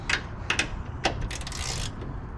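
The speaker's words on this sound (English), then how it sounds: "I have a deep socket 10mm. That's going to be perfect for tightening those up" A ratchet turning a 10mm deep socket to tighten Cusco strut brace bolts on a Fiat 124 Spider clicks in short, close bursts, with a faster run of ticking near the end.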